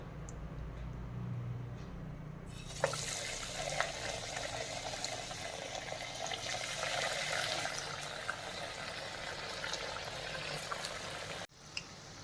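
Vadas dropped into hot oil for deep-frying, a quiet start then a steady bubbling sizzle beginning a few seconds in and running on close and constant until a sudden cut near the end.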